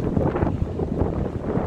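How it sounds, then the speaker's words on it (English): Heavy wind buffets the microphone in a constant rumbling roar, loud and close, with no other clear sounds. "sorry about the wind and stuff and the noise."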